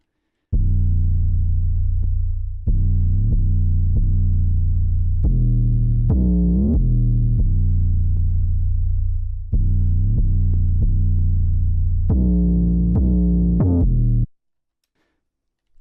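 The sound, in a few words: 808 bass in a dark trap beat made in FL Studio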